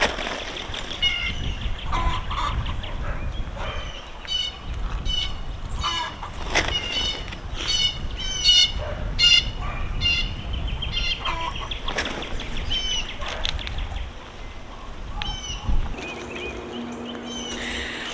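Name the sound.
chickens clucking in a garden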